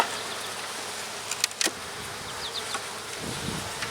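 Bees hum in a steady, close drone around a bear-damaged hive, with a few brief louder buzzes as individual insects pass near.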